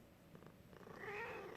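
A kitten purrs softly and close by, a low steady rumble that swells a little louder toward the end of a short stretch, with no talking over it.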